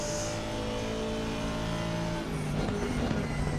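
Sim racing cars, an Aston Martin chasing a Ferrari around Suzuka, produce a continuous loud engine roar with steady tonal whine, shifting pitch near the end as the cars pass through a corner.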